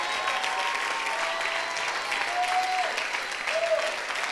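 Church congregation applauding, dense sustained clapping at a steady level throughout, with brief voices and a tonal whoop or call rising over it near the middle and end.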